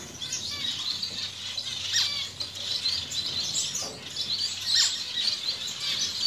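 Black cheek zebra finches chirp in a breeding setup, a rapid stream of high, thin tweets and calls, close and moderately loud, with a brief flutter of wings.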